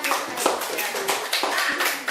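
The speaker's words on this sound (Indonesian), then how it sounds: "Berikan tepuk tangan untuk teman kita" Students applaud a classmate during an Indonesian classroom lesson, a short burst of dense, lively hand clapping from a nearby group, with voices talking over it.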